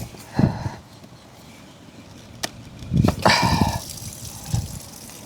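Water and air hiss and spurt from a Pentair Big Blue two-stage filter housing in short close bursts, with a louder gush near the middle and brief splashes, without talk.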